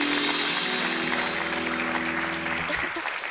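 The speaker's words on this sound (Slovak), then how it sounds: "tak potlesk tu aj, samozrejme" Studio audience applause on a Slovak late-night talk show, a steady close burst of clapping that fills the whole moment, with a host's voice speaking over it.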